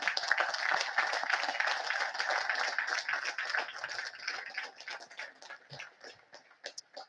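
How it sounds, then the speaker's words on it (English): Audience at the 2021 West Point commencement breaks into sustained applause, a dense wash of clapping from a large outdoor crowd that gradually thins into scattered individual claps toward the end. "How about a round of applause for all of our family and friends?"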